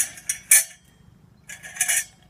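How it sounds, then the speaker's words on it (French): A small metal grill grate clinks and rattles as it is set onto a Kelly Kettle camp stove outdoors, a few sharp metallic taps near the start and another cluster of clinks a second later, close and clear over quiet background. "mettre le petit grillage comme ça, qui va là, pour pouvoir cuire nos aliments directement"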